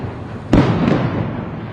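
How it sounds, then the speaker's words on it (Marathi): Firecrackers set off for a Ganpati immersion procession: a sharp loud bang at about half a second, then a dense crackling burst of pops that carries on steadily until it stops abruptly, with no talk. "आणि इथे मस्त विसर्जनासाठी फटाके लावले"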